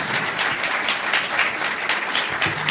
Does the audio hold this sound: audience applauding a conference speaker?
yes